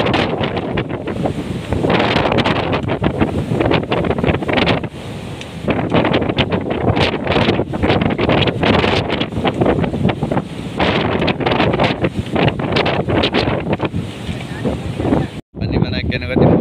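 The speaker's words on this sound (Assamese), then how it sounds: "এতিয়া যিটো ঘূৰণীয়া বতাহটো আহি আছে মানে হৈ আছে" Cyclone Remal winds at sea in the Maldives after days of wind and rain, with waves around; loud continuous roaring gusts batter the microphone, with a brief dropout near the end.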